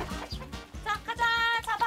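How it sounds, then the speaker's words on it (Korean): A farm chicken clucks in repeated short bursts while a family chases it, the calls loud and close and growing busier toward the end. "닭 한 마리 잡으려고 온 가족이 난리가 났습니다."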